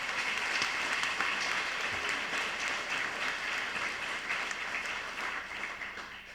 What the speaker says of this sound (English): And one more round of applause for Mr. Anthony May